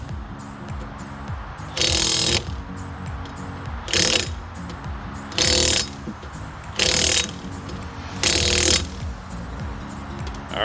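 A hand ratchet tightens the lug nuts on a 2010 Ford Focus wheel after a shock replacement, with five loud bursts of rapid clicking separated by short pauses, close up and without talk.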